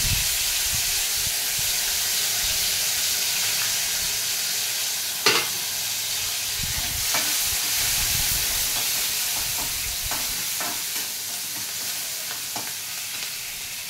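Chopped onions sizzling in hot oil with mustard seeds and cumin, a steady loud hiss with occasional stirring scrapes and brief pops, close by and alone.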